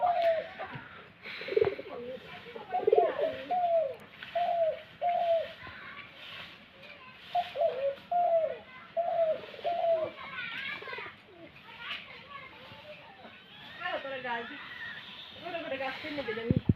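A young male pet pigeon-type bird still learning its call coos in repeated short phrases, moderately close, while a person talks over much of it.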